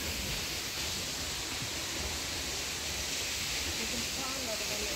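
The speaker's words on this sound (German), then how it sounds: "Und da ist der Wasserfall." Salto Suizo waterfall near Independencia, a constant broadband roar of falling water that fills the scene with no break or change.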